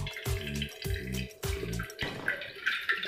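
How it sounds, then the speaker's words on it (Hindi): Water runs and splashes over freshly curdled chhena, made from milk split with vinegar, as it is rinsed for rasgulla, with several close bursts of pouring and dripping followed by a lighter trickle. "तो इसको हम पानी से फिर से धो लेंगे अच्छे से"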